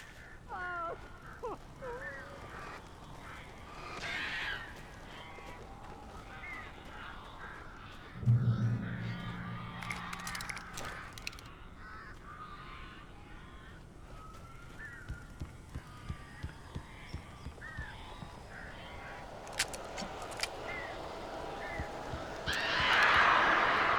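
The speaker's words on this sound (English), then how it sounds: "These birds are weird." Crows cawing in the video game Alan Wake, scattered harsh calls heard at a moderate distance amid ambient game sounds, with a brief louder thump partway through and a burst of noise near the end.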